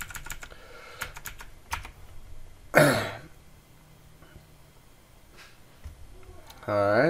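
Quick bursts of clicking keystrokes on a computer keyboard while a command is entered on Windows Server, close and fairly soft, interrupted by a throat clearing and brief talk.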